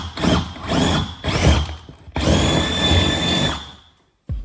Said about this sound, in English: We're gonna put a little pilot hole through first, just to be sure we're on the right track here.